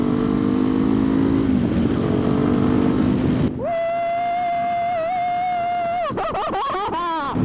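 A Kawasaki Ninja 500 SE fitted with an aftermarket exhaust drones steadily while riding, its engine note prominent for about three and a half seconds. A sustained whistling tone then takes over, followed by wavering, rising pitches.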